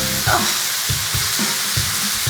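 Food sizzles and fries in several pans at once on a busy kitchen stove, a constant crackling hiss broken by a few soft knocks of stirring or pan handling.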